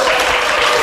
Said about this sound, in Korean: 너무 이렇게 환호를 안 해주셔도 됩니다